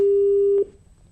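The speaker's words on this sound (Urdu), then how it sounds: "کال ڈراپ ہو گئی۔" A steady telephone busy-signal tone sounds loud and alone for about half a second, then cuts off as a phone call drops during a live Urdu call-in broadcast, leaving faint background noise.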